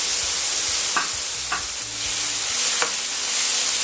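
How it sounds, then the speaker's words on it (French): Bacon sizzles steadily in a frying pan at close range, a constant bright hiss broken by a few short scrapes of stirring, with no talking. "quand le lard commence à griller un peu"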